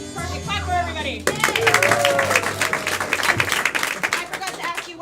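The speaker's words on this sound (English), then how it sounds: "Clap for everybody." At a live comedy show, a crowd bursts into loud clapping after a brief stretch of talk and laughter, the applause building quickly and holding steady to the end.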